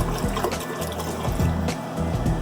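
Clear water poured into a pot to start a Laotian lotus root pork soup, a steady, continuous splashing fill lasting a couple of seconds, close and moderately loud with no talking.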